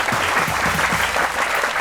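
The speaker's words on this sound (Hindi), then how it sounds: "तालियां होनी चाहिए।" An audience claps for guests arriving at a comedy talk show, a dense, steady burst of applause filling the short moment without voices over it.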